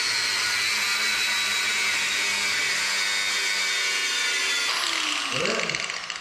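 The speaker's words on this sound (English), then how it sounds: "I'll get the angle grinder out." An angle grinder whining at a steady high pitch, loud and continuous for several seconds before it cuts off and winds down, used on an old Dowdeswell plough.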